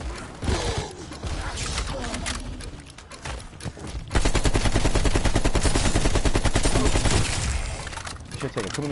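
Gunfire from a gun in a PS4 game: bursts of shots at first, then a loud sustained stream of rapid automatic fire from about the midpoint, with someone talking in the opening seconds.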